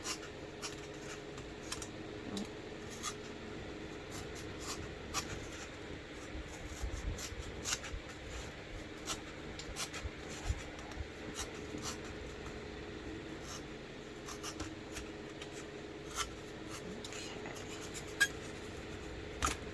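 A craft knife scratches and scores through material, piercing a hole on a marked line and then cutting around it, heard as quiet, repeated faint scraping ticks against a low background hum.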